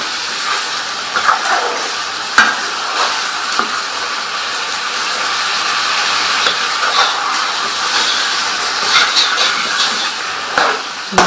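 Chicken frying on a high flame in a curry pan gives a loud, steady hiss with occasional sharp pops and crackles throughout.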